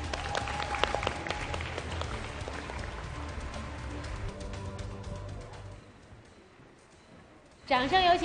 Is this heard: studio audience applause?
yes